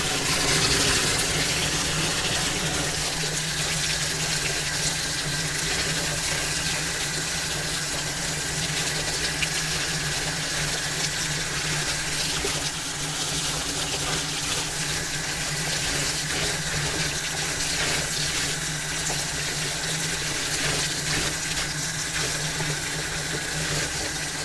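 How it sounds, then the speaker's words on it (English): Tap water runs continuously while a Fluval 307 canister filter is rinsed, a loud steady gushing hiss close by that lasts the whole time without any talk. "So when the water is starting to run clear, that's how you know it's clean enough."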